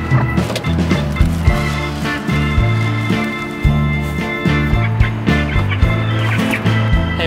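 A duck and chickens in a poultry pen give loud, close, repeated squawks and clucks in a steady, choppy rhythm with short gaps between calls.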